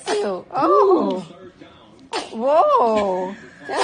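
Baby sneezes twice, each a short sharp burst with a voiced tail, about two seconds apart and close to the mic, with adult voices reacting around them.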